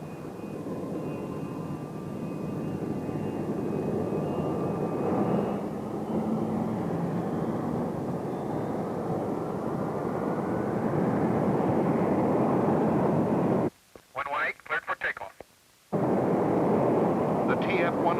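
Jet engines of F-100 and F-107A test aircraft roar steadily at Edwards with a broad, loud rumble and hiss, broken late by a brief crackling radio transmission before the engine noise returns.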